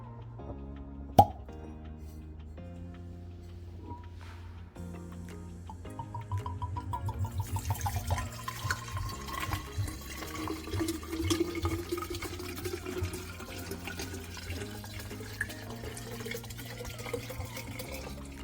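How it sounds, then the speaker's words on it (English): A full bottle of tequila is poured into the reservoir bottle of a Bartesian Duet cocktail machine: a steady liquid stream whose pitch rises as the bottle fills, running alone for about ten seconds after a brief knock. "Now we'll go ahead and load this full bottle of tequila."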